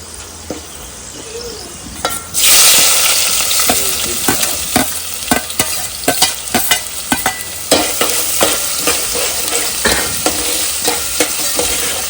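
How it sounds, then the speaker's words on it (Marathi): Onion hits plenty of hot oil with bay leaf, black pepper and cloves and bursts into a loud, sustained sizzle, accompanied by rapid, repeated spoon scrapes and clanks as it is stirred, with no voices. "कांदा छान तेलात परतवून घ्यायचं."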